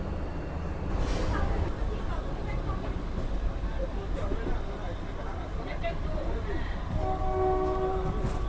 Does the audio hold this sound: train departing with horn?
yes